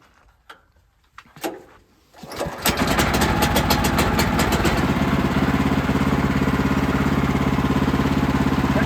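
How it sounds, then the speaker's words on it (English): A Kohler engine on a Woodmizer LX25 sawmill starts after a few scattered knocks and clunks, then settles into a loud, steady, close-up running drone that continues to the end. "Kohler starts on the first crank every time."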